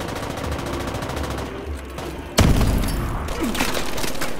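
Machine gun fire in the video game Call of Duty Advanced Warfare, a continuous loud rapid rattle of shots with a heavy boom partway through, sustained and close.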